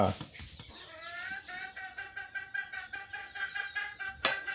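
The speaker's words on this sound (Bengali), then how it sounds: "মুরগিগুলো কি কি অবস্থা, ডিম পারবো নাকি?" Hens cluck in a rural Bengali household yard, a string of short, close, rhythmic clucks and murmuring calls rising to a sharper squawk near the end, fairly faint overall.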